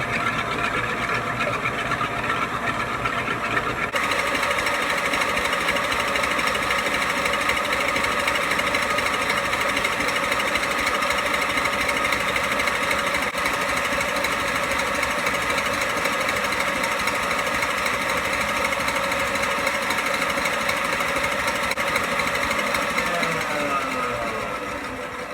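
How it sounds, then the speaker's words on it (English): An electric mixer whirs steadily as it beats egg whites for tiramisu, a loud, close, continuous motor drone that steps up in speed after about four seconds and stays even, with no talking. "the more we beat our egg whites, we're beating a lot of air in there, and it's making it light and fluffy"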